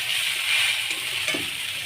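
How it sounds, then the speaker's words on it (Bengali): Boiled pasta frying in a pan before fried egg is added, a soft continuous hiss and crackle with a faint scrape of stirring, close and fairly quiet, no voices. "পাস্তাগুলোকে দুই তিন মিনিট একটু ভেজে এবার এর সঙ্গে ভাজা ডিমটা দিয়ে দেবো"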